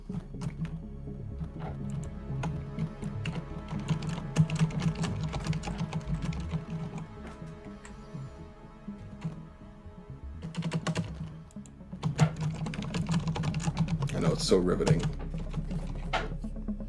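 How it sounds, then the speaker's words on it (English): Steady clicking of computer keys, bursts of fast typing with brief pauses, close by, while a person talks intermittently over it. "to the sounds of typing"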